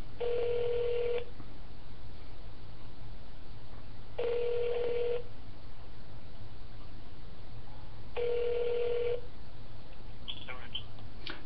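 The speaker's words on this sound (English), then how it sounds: "apparently he's not answering his phone" A telephone call rings unanswered on the line: three evenly spaced ring tones about four seconds apart, each roughly a second long, heard through a phone earpiece over a faint steady hiss.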